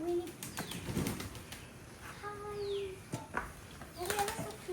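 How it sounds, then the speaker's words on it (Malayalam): Pigeons at a clean farm give short bursts of wing flapping, with soft cooing-like calls in the middle and near the end, all over a busy background of distant voices and bird chatter. "പ്രാവല്ലേ അത്?"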